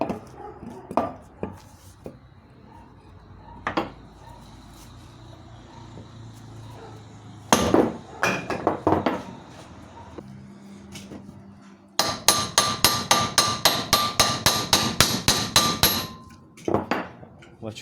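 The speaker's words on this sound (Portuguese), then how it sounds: "Bati com o martelo aqui mesmo." A hammer taps the axle shaft of a Ford Focus MK1.5 in a workshop: scattered single knocks at first, then a fast, loud run of evenly spaced blows.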